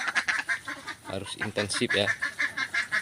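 Egg-laying ducks in a flock of about 200 on a duck farm, giving a dense run of nasal quacks and honks close by, with a voice speaking briefly among them.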